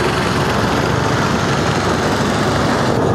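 An International 1086 farm tractor set up for pulling at a county fair runs with a constant, loud, coarse engine roar across the whole stretch, heavy and unbroken.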